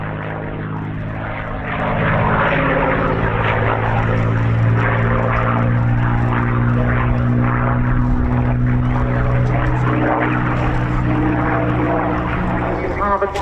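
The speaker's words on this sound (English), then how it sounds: "we leave you now with this spectacular Warbird P51 Mustang" A P-51 Mustang warbird flies at the RAF Cosford Air Show with a loud, deep propeller-engine drone that swells in after two seconds and holds steady. A voice talks over it.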